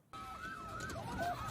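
Police car sirens wail in sweeping rising and falling tones, fairly faint and distant against low road rumble, with no talking.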